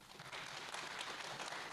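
Faint, distant applause from a conference audience at a Python talk, a dense patter of many hands clapping at once.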